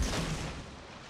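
Destroyer guns firing in a naval battle video game, a dense, rumbling barrage of artillery booms that starts loud and gradually thins over a second, with no talk.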